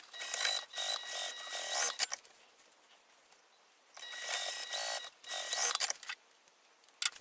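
A sewing machine stitching up the side seams of a crossbody bag runs in two bursts of fast, whirring stitching, each about two seconds long, separated by a quiet pause, fairly close and moderately soft.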